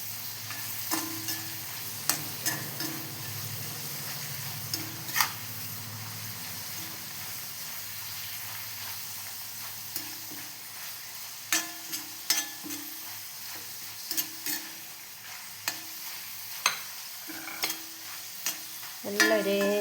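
Papadams fry in hot coconut oil with a constant close sizzle and bubbling hiss, broken by repeated light scraping and clinking as they are stirred, and no one speaking.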